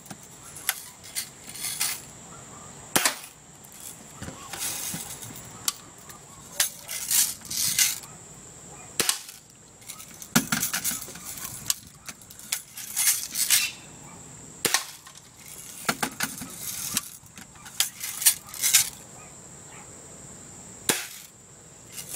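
A BB gun fires repeatedly in live action play, sharp close cracks and pops arriving in irregular bursts, some followed by light rattles and clatter.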